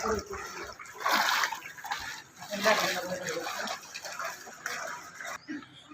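Water splashing and sloshing as a child wades through knee-deep floodwater in a residential street, uneven bursts of splashing over several seconds with faint voices nearby.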